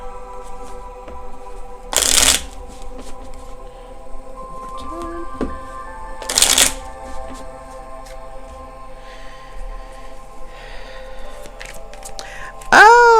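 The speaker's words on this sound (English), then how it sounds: "Shuffle properly." Two short, loud riffle shuffles of a deck of playing cards, a couple of seconds apart, with quiet background music running throughout and a faint third burst at the end.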